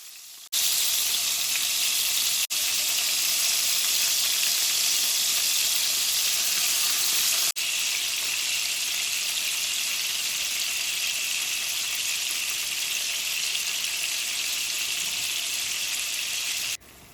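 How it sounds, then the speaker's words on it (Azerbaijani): A steady, loud, hissing sizzle of salted tomatoes frying in a pan, continuous for a long stretch with no voices. "Pomidorları da düzüb üzərinə duzu töküb qızardıram"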